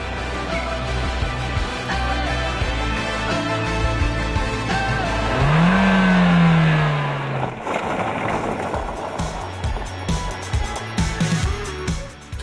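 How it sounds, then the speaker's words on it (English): A car with a 1.7-litre diesel engine drives along a road, a continuous engine drone and tyre rush with a rising whine in the middle, close by. "Time to take the car out onto the road."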